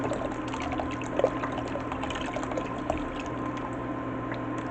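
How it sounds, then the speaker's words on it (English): Vegetable stock and water poured into a pot for Korean vegan ramen noodle soup, a steady soft liquid stream running under a low hum with a couple of small splashes, no talking. "we're going to be adding the rest of the vegetable stock. So that's 3 cups, plus we're going to be adding an additional 3 cups of water"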